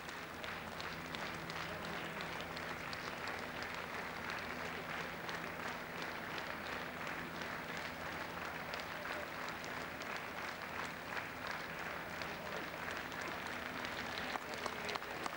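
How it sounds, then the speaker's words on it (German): A crowd outside Willy Millowitsch's theater gives him a last applause at his funeral, sustained and even clapping from many hands at some distance, without letup for the whole stretch. "Der letzte Applaus für Willy Milovic vor seinem Theater"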